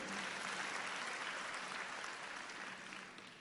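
Church congregation applauding during a sermon, a faint, steady wash of clapping that fades slightly toward the end.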